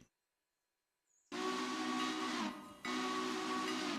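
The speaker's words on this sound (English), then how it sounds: "Got the chunky whistle." A steam locomotive whistle in the video game Railroader sounds after a brief silence, two loud sustained hissing blasts separated by a short dip, with no voices.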